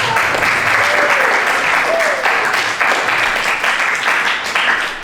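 Steady applause from a lecture audience, dense clapping filling the room for several seconds without pause, with a faint voice murmuring underneath.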